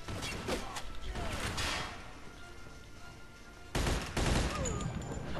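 Shotgun fire in the Mafia 2 video game, with dense bursts of gunshots and crashing impacts continuing throughout over a busy game soundtrack, with a loud flurry near the end.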